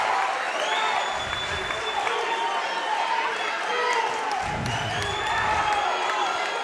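Basketball crowd at a Division IV state tournament game cheering and applauding loudly and continuously, a steady roar of clapping and shouts with swells near the start and again toward the end.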